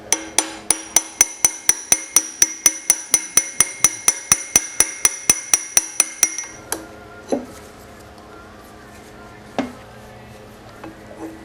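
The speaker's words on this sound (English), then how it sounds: "I got a real light hammer." Light hammer tapping a drift pin during a Maytag 72 engine rebuild: about two dozen quick, evenly spaced metallic taps with a bright ring, then a pause and a few scattered clanks and handling sounds.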